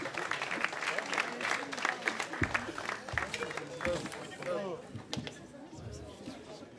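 A roomful of people applauds to welcome quiz hosts Arnaud and Guillaume at an amicales debate evening, with dense clapping and voices mixed in that taper off toward the end.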